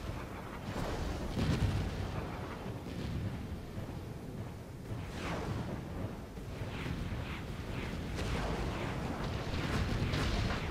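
Repeated turret fire in the video game Operation Ascalon, a run of booming bursts and explosions over a dense, continuous rumble of battle noise, loud and sustained throughout.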